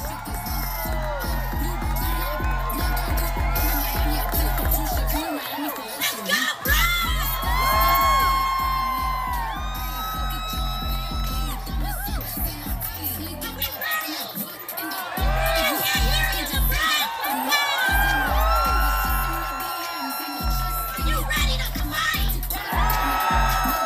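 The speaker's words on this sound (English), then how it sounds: "Let's take a look at Miss AOC hyping up the crowd." Rally crowd cheering loudly as a speaker hypes them up, with sustained shouts, whoops and yells rising in waves over a steady musical bed and pausing briefly twice.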